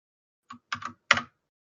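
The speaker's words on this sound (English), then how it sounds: "if you guys have been able to hear me typing" A few quick bursts of computer keyboard typing, close and clear: a single tap, then two short clusters of keystrokes, then a final louder flurry, with silence around them.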